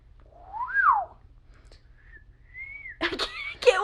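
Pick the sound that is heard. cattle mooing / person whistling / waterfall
person whistling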